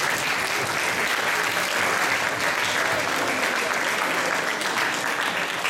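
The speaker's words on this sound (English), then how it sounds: "So can we give those people a round of applause as well?" Sustained applause from a school assembly audience at a Year 11 leavers' event, a broad, even wash of many people clapping that holds steady throughout, close and full, with no speech on top.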